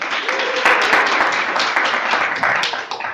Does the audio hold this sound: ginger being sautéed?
no